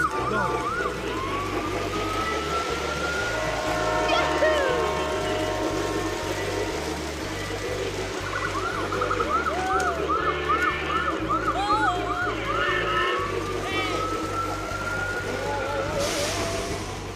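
A red and white toy ambulance train's wailing electronic siren rises and falls repeatedly over a busy, rhythmic toy-like background, fairly loud and continuous throughout.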